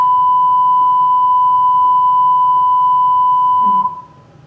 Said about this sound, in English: How am I supposed to get anything if all I hear are beeps?